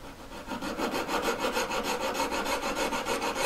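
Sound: metal file filing down a jewellery setting claw

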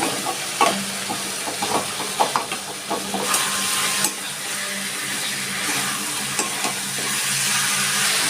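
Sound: potatoes added to sizzling fried masala in a pan

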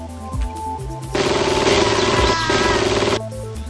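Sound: weapon shots at robots in video game System Shock

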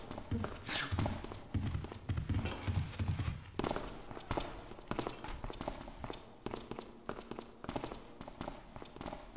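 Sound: many footsteps in the video game Thief

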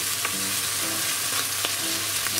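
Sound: corn and butter frying in a pan on high heat

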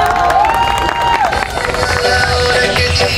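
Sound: audience applause

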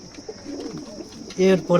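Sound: pigeons cooing in a loft

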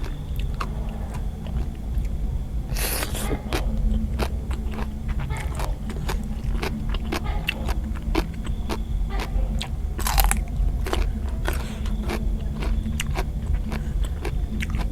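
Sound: biting and chewing crunchy raw radish

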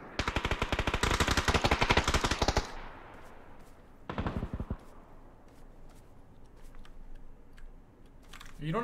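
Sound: gunfire in PUBG (Battlegrounds) video game

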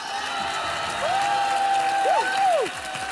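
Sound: audience applause for the drag queen contestants

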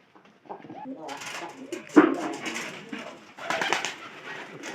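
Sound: pigeons cooing

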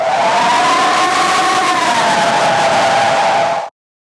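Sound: synthesized scream with heavy distortion, sound design

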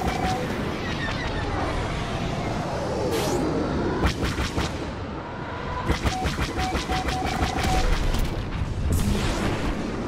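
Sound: homing missile fired and exploding in Star Wars Battlefront video game

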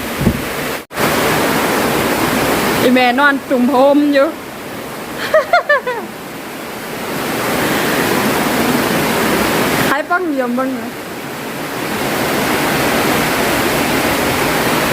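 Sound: heavy rain falling

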